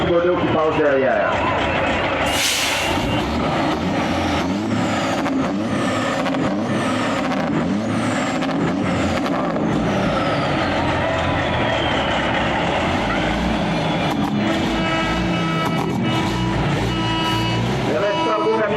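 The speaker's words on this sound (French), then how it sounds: "Un autre camion de M. Steven Thibodeau qui passe derrière." A truck rolls past during a parade at a lumberjack festival, its engine rumbling steadily with an air brake hiss near the start, while an announcer talks over a loudspeaker throughout.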